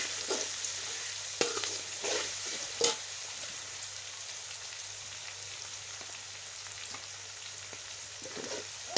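Red chilli and coriander powder are stirred into a sizzling pan, with a soft, steady frying hiss and a few spoon knocks and scrapes against the pan, fairly quiet and without speech.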